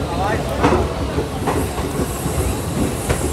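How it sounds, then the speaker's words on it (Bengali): The Upasana Express rolls into Jhajha junction with a continuous rumbling rattle and rhythmic wheel clicks, heard close from inside the carriage with faint hiss and some voices underneath. "এখন আমাদের ট্রেন এসে পৌঁছেছে ঝাঝা জংশনে"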